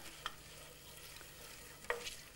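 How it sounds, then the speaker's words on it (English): Finely chopped medium onion being stirred in a pan over lowered heat: a faint, quiet sizzle with two short scraping clicks from the utensil, no talk. "Turn the heat down at that stage, then just give it a little stir"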